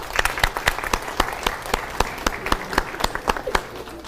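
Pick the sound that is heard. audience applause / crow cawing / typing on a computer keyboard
audience applause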